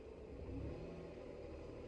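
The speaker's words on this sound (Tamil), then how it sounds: "கேளுங்க நீங்களே இன்ஜின் சவுண்டு." A Maruti Suzuki Alto engine idles with a steady low rumble, close by, continuous and even throughout, with no voices.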